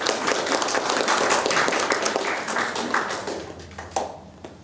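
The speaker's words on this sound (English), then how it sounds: "Can we give Jonathan a round of applause?" Audience applause for a speaker at a God & Beer talk held by the Knights of the Southern Cross, a broad sustained round of clapping that slowly thins and fades toward the end.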